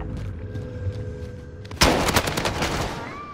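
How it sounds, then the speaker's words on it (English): Gunfire in the Call of Duty Warzone video game: a sudden loud burst of rapid automatic shots that breaks in after a quieter stretch and keeps going, with a faint voice in the background. "Taking fire!"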